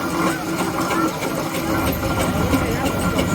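A rusted Proctor standard three-point steam roller, once a working Devon roller, runs at a steam rally with a steady low mechanical rumble and rhythmic knocking, close by, while someone talks over it.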